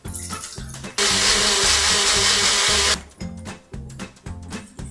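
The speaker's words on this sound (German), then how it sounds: "ich benutze Magic Mixer, der ist ziemlich gut und leistungsstark" A Magic Mixer blender blends flaxseed with banana and water in short motor pulses, then a sustained two-second loud whir, then more choppy bursts.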